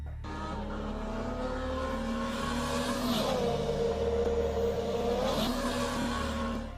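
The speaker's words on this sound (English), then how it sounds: "2 cars are on a highway doing a street race at night" Two cars street racing on a highway at night, engines roaring loud and sustained with rising and falling pitch sweeps as they rev and shift, tire noise throughout, no talking.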